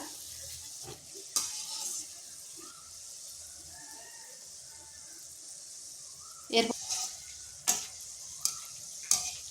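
Quiet, steady sizzling of boondi frying and bubbling in hot oil, with a few sharp scrapes and clinks of a utensil.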